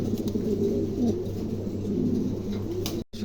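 A pair of Pomeranian pouter pigeons coos steadily in low, rolling phrases, close and fairly loud, with a brief dropout near the end.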